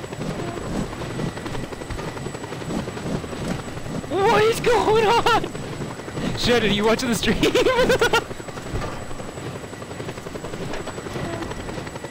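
Helicopter in the video game Just Cause 2, a steady rotor and engine drone running throughout at moderate level, with a person shouting excitedly over it in bursts midway.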